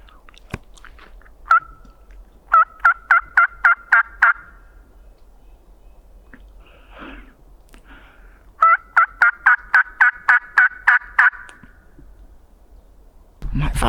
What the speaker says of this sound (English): I swear I just heard a gobble way off in the distance